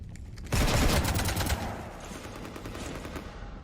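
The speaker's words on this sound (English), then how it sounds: "You want to stop shooting up my ship?" A sudden loud volley of rapid gunfire in Mass Effect 3 from the Legendary Edition, with a sharp burst of shots followed by a sustained rattle of fire that gradually eases into a lingering echo.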